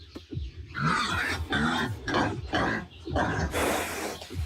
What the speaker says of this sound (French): Un sanglier?